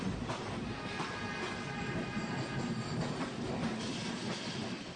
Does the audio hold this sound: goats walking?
no